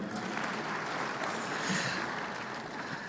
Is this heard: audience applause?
yes